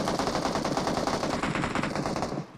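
Video-game automatic weapon fire sprays in one sustained burst of rapid, evenly spaced shots, loud and unbroken for a couple of seconds before cutting off, with no voices over it.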